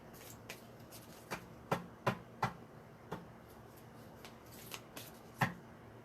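Tarot cards shuffled by hand, a series of crisp riffling snaps and soft slides at an irregular rhythm, close and fairly quiet, with no talk.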